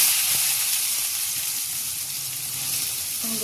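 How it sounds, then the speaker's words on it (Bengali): Chopped garlic sizzles in hot oil with a steady, loud hiss. A few faint clicks sound near the start. "রসুনগুলো ভেজে নেব।"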